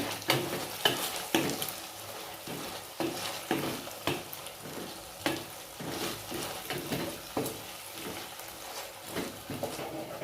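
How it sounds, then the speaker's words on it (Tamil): Coriander and mint sauté in a pan for a village-style mushroom masala, with a soft, continuous sizzle broken by repeated scraping stirs of a spoon against the pan at a steady, uneven rhythm. "உள்ளே ஆட் பண்ணிவிட்டு இப்போ நல்லா அதை வதக்கணும்."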